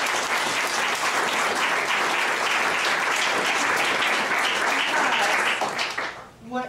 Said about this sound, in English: I would like you to give this group a round of applause.